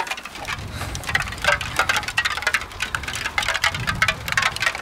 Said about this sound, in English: Raindrops on the plane.